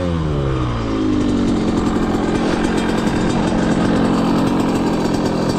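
A rebuilt Yamaha YZ125 two-stroke dirt bike engine runs steadily and loudly up close, its buzzing note holding fairly even with slight revving variations throughout, no voices present.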